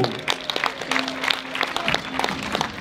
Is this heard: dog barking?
no